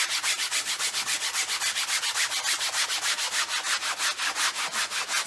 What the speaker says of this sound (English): you want to sand it until you can feel that it's kind of smooth